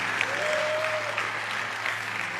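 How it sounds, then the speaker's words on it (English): Live audience applauds warmly for a couple of seconds, with dense, steady clapping from a crowd filling the room. "I think that deserves another round of applause."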